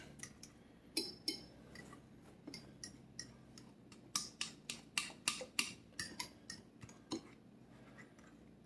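A spoon ticks and clinks against a bowl in an irregular, fairly quick rhythm while banana blueberry pancake batter is stirred, the light taps close and clear over a quiet background.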